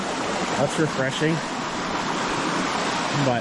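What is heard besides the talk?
creek water flowing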